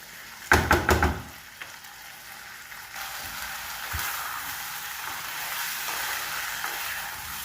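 Prawn, potato, cauliflower and broccoli curry with ground spice paste being sautéed in a pan, a few loud scraping stirs at the start, then a steady low sizzle and faint frying crackle alone.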